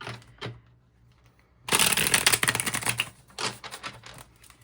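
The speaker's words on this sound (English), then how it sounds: "Let me give this another shuffle." Tarot cards are shuffled close by after a quiet pause, a dense riffling flutter of cards followed by a few softer bursts of card handling.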